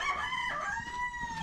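A rooster crows at a farmhouse, its drawn-out harmonic call filling the short span loudly and close by, with no voices over it.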